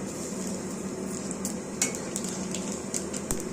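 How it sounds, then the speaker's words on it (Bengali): Nigella seeds crackle and sizzle in hot oil left over from frying hilsa fish, a continuous bright fizz with a few sharp pops and light utensil clinks, close and steady with no talking. "ঠিক এই মাছ ভাজার তেলে আমরা এখানে 1 চা চামচের মতন কালো জিরার ফোড়ন দিলাম।"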